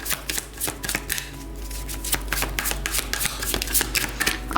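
Tarot cards being shuffled by hand in a dense run of quick riffling, flapping bursts, close and fairly loud with no talk over them.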